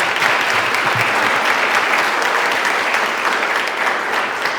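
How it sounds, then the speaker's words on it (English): Audience at a women's award celebration gives the three nominees a sustained round of applause, dense and even clapping from a large crowd filling the room without a break. "Let's have one more round of applause for our 3 nominees."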